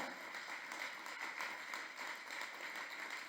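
Congregation applauding the Lord during a church congress session, a dense, even wash of clapping heard from a distance, quiet and continuous without a break.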